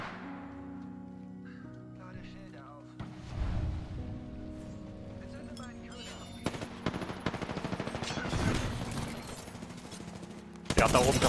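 Gunfire in the battle royale game Apex Legends, rapid automatic bursts and single shots crackling repeatedly through the second half, growing denser and louder, with someone talking over the action.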